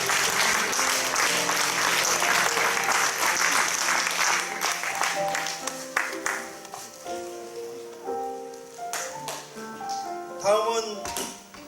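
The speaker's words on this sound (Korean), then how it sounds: "뜨거운 박수." Warm applause from the congregation at an alumni association chairman's inauguration thanksgiving service, loud and sustained at first, then thinning as music and voices rise beneath it.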